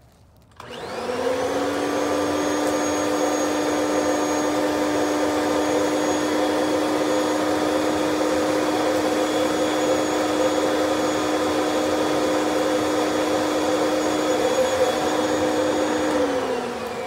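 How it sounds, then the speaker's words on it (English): A vacuum cleaner, its hose sealed around a patio cushion, switches on and spins up to a steady, loud whine, droning on unchanged for a long stretch before it starts to wind down. "Turn on your vacuum cleaner."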